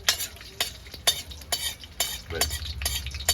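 Food frying in an outdoor back cookhouse, crackling and popping in short bright bursts about every half second, close and fairly loud, with a low rumble beneath.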